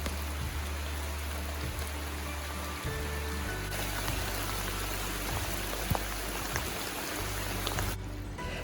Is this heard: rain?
yes